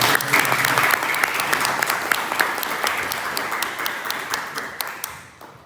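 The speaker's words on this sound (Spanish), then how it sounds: "quiero pedirle un aplauso para Leonor" A lecture audience applauding for speaker Leonor Rubiano Segura, a burst of many clapping hands that holds steady, then thins and fades out near the end.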